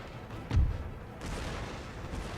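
Artillery fire in Empire: Total War during the Battle of Upper Canada, one deep booming cannon shot with a low rumble, then a second softer roll of distant fire over battlefield ambience.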